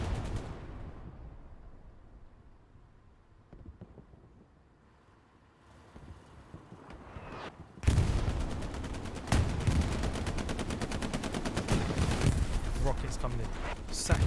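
Incoming rockets and gunfire in a World War II video game battle at Utah Beach: distant muffled rumbles and wind-like noise give way to a sudden loud blast, then dense sustained booms and crackling fire, with a commentator talking throughout.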